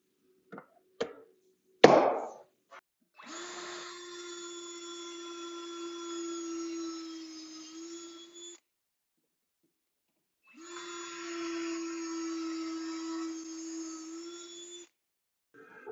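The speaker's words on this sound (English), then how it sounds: "Now we'll drill some pocket holes to hold the face frame together." Pocket holes being drilled into face-frame stock for an upper cabinet with a Kreg K4 pocket-hole jig: a few sharp clicks and a clamp knock, then two steady whining drill runs of about five and four seconds separated by a pause.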